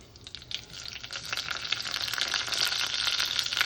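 Onions frying in a pan with cumin and fennel seeds for a vegetable pulao, a steady crackling sizzle that builds and grows denser over a few seconds, with no talking.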